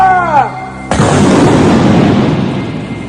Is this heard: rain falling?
no